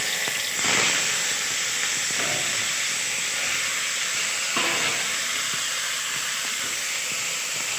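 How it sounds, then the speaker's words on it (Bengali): Bitter gourds dropped into hot oil, a loud, steady frying hiss with sharper bursts of sizzle as pieces hit the oil. "এখন তেলটার উপর আমাদের করলাগুলোকে ছেড়ে দিব।"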